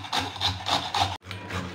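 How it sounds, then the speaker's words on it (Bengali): Watermelon rind rubbed against a grater, quick rhythmic rasping strokes about four times a second, close and fairly quiet, with a brief pause before the strokes continue. "এবার আমি তরমুজের ছাড়ানোটাকে ভালো করে ঘষে নেব।"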